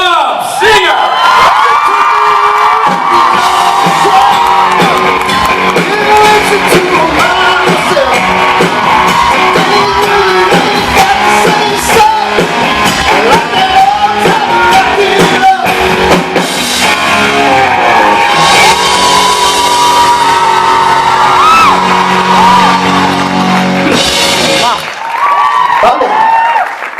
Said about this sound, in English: an effusive round of applause, please, for Mr. Bob Singer!